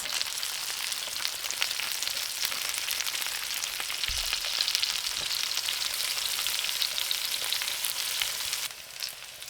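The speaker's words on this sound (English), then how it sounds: "Let the meat side grill for 5 to 6 minutes." Chicken dumplings, gyoza-style potstickers, fry meat side down in a hot pan, giving a steady, close, continuous sizzle with a brief low bump partway through and no talking.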